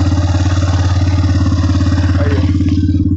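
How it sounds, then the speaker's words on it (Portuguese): A motorcycle engine runs steadily close by with a pulsing, throbbing idle, loud and continuous throughout with no voices. "Acho que eu tenho que parar de novo pra poder dar partida nessa moto."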